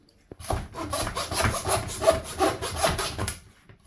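A homemade bone saw cuts through bone in quick, rhythmic back-and-forth strokes, heard close and steady for a few seconds before stopping.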